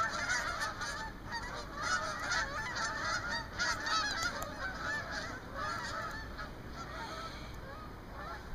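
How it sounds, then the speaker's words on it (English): Canada geese honk in a dense, overlapping chorus as a flock flies away over snow-covered ground after a blizzard, steady and fairly close throughout with no talking. "there go the canary geese"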